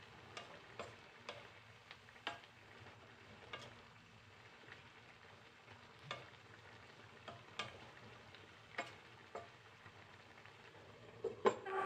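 Bitter gourd and green chili frying in a pan with chicken liver adobo, a steady low sizzle broken by scattered light pops and ticks of stirring, with no voices.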